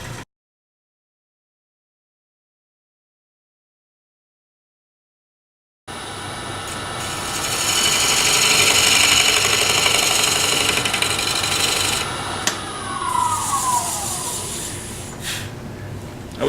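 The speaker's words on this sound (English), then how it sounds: "So let's get back to the lathe and finish up the back of our bowl." A wood lathe turns a bowl blank as a gouge finishes the back of the bowl. It starts after a stretch of silence with a steady, loud mechanical whir and a hissing cutting noise, then ends with a brief higher scraping sweep. Nobody speaks.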